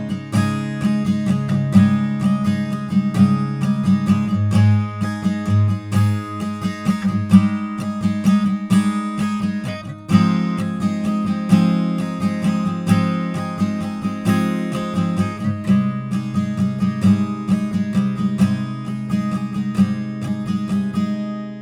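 Acoustic guitar fingerpicking the chord shapes of a song plays alone for over twenty seconds, with a steady, rolling pattern of plucked notes ringing together and a brief pause near the middle.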